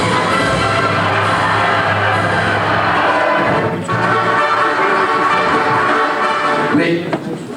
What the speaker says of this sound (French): Applaudissez-le, vraiment.